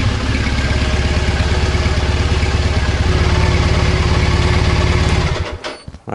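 A Triumph Bonneville motorcycle engine idles after repair with a loud, steady, pulsing rumble close by, then cuts out near the end.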